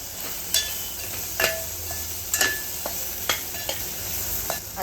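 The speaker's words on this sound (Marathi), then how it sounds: "पुन्हा परतून घ्यायचं आपल्याला" Ridge gourd pieces with chili powder and salt stir-fried in a hot pan, a spatula scraping and clacking in irregular strokes about once a second over a soft, steady sizzle.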